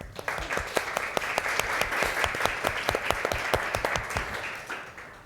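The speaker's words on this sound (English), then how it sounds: "A round of applause, please" An audience at a conference on gender inequality in agroindustry applauds a speaker being introduced, with sharp individual claps standing out within a steady round of applause that holds evenly to the end.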